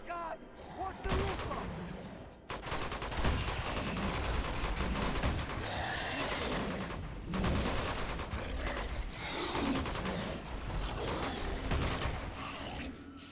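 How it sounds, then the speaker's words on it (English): Bursts of gunfire and rapid automatic fire in the video game Uncharted 2: Among Thieves, with loud, dense fusillades separated by brief lulls. "This is where they're shooting at the big dudes."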